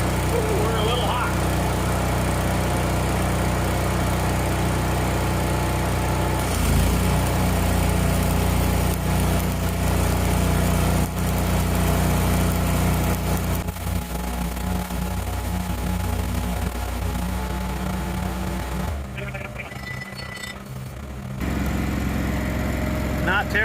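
A Lincoln Electric 250 Ranger engine-driven welder, first started after ten years, runs steadily and loud throughout, with a constant low engine drone and a brief dip in the sound near the end.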